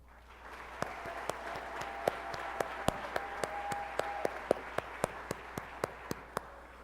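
At an awards ceremony, an audience applauds warmly in a steady wash of clapping. Several sharp, distinct claps stand out in an even rhythm over the crowd.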